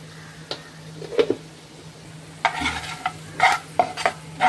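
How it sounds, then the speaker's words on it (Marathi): Onion, turmeric and red chili stirred in a pan, a few scraping spoon strokes with a soft sizzle beneath, quiet at first then louder bursts of stirring toward the end. "हे चांगलं असं मिक्स करून घ्यायचं।"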